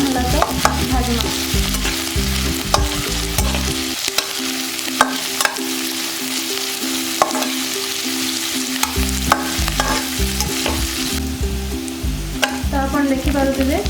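Onions frying until brown for matar paneer give a loud, continuous sizzle with occasional sharp clatters of stirring. Steady tonal background music plays underneath, and no one speaks.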